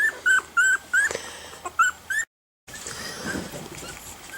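A newborn two-week-old miniature schnauzer puppy lets out a rapid series of about seven high, thin squeaks close by, then goes briefly silent before soft rustling resumes.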